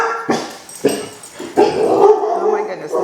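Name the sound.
dogs barking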